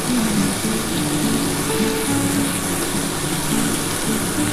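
Masala frying in a pan with jackfruit and potatoes gives a steady, even sizzle with a watery hiss, close and constant for the whole stretch, no voices over it.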